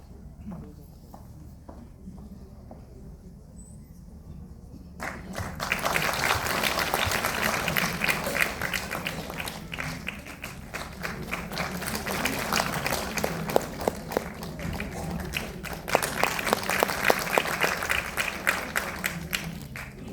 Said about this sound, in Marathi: तेव्हा नीलाताईंसाठी एकदा जोरदार टाळ्या करायला.